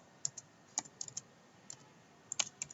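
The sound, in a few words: typing code on a computer keyboard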